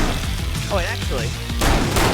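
Sniper gunfire in a video game comes as a loud, sharp blast with a ringing tail near the end, following a stretch of talking.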